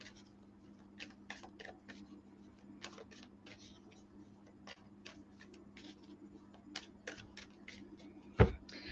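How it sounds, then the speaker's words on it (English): Tarot cards being shuffled by hand during a weekly astrology reading, a run of soft, quick papery riffles and taps at close range, with one sharper knock near the end over a faint steady hum. "So I'm going to give those a good shuffle."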